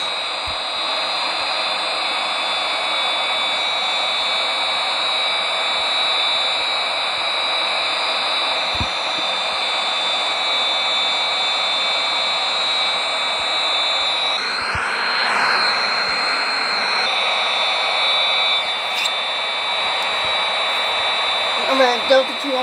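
A US Navy F-18 carrier-borne jet taxiing and taking off at Honolulu International Airport in Hawaii, a loud continuous whining roar with a high steady tone that swells and shifts midway, heard close with a voice faintly in the background.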